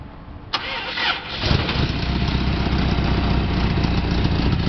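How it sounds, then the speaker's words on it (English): A 1954 Chevrolet rat rod pickup, bagged with side-exiting exhaust, cranks briefly then fires up and settles into a loud, steady rumbling idle close by. "Truck runs excellent."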